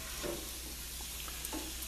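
Risotto of arborio rice being stirred in a pan with lobster mushrooms and corn as liquid is added, a soft continuous sizzle with gentle scraping strokes of the spoon, close and steady.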